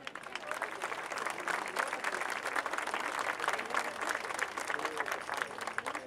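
Steady audience applause at a lamb festival celebration, sustained and fairly dense throughout, with faint crowd murmur and no clear speech over it.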